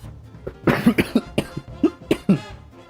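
Someone nearby coughs in a rapid fit of about eight harsh, throaty bursts in quick succession.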